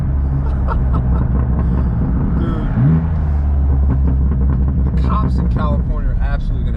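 A straight-piped BMW M4 F82 exhaust rumbles loudly and deeply throughout, a heavy low drone with occasional revving, while someone talks over it.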